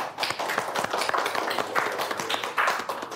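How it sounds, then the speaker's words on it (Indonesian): Applause at a political gathering with Anies Baswedan: a few seconds of close, busy clapping with scattered sharp hand claps and no voices. "tepuk tangan untuk semuanya"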